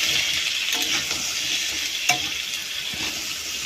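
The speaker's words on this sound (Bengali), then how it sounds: "ভালো করে ভেজে নিতে হবে।" Small fish frying in oil in a pan for a fish curry with drumsticks, a continuous bright sizzle close up with a faint clink of a utensil midway.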